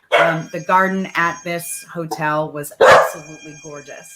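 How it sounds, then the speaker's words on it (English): A pet dog barks in the background, mostly buried under a person talking steadily in the foreground. "that's my dog barking in the background"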